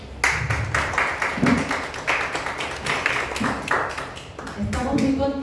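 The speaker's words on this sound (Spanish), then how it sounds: "Un aplauso para ellos, por favor." Audience clapping at a ceremony, heard as distinct, fairly quick claps that repeat at a steady pace, with voices mixed in throughout.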